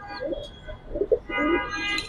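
L.R.B Giribaz pigeons coo softly in a loft, a few short low murmuring calls heard close and faint.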